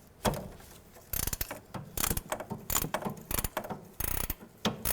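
A 17mm wrench works loose a sway bar link stud on the front suspension of a 2007-2012 Nissan Altima, giving close, irregular metallic clicks and ratcheting clanks in short bursts with no talking.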